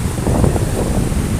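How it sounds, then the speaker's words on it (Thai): Strong sea wind buffets the microphone at the beach, a steady, loud, low rumbling roar with constant gusting texture throughout and no voices. "ทะเลลมแรงครับผม ทำไมมันลมแรงอย่างนี้"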